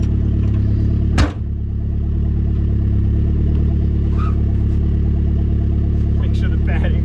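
A Mazda Miata with a turbocharged 1.6-liter engine idles and drives with a steady loud droning hum from inside the car, with a sharp click-like transient early on and a voice speaking over it.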